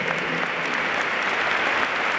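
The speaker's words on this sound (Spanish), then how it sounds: "le damos un aplauso porque realmente son grandes músicos" Audience applause for a concert band of musicians, a dense, continuous wash of many hands clapping at steady volume throughout, with no talking over it.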